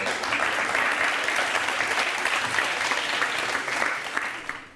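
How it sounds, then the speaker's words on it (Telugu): A studio audience at a televised courtroom-style talk show bursts into sustained applause, many hands clapping densely and loudly for several seconds before tapering off at the end. "ఇందులో క్లాప్స్ కొట్టడానికి ఏముంది?"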